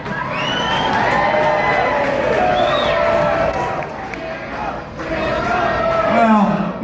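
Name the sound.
crowd applauding and cheering at a concert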